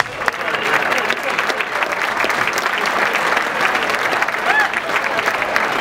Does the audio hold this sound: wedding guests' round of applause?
yes